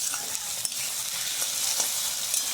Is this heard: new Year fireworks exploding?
no